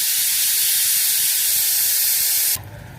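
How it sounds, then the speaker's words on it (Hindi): A kitchen pressure cooker on a high flame lets out a loud, sustained hissing whistle of escaping steam, which cuts off abruptly near the end, leaving only a quieter background. "एक विसल आ गया है कुकर में"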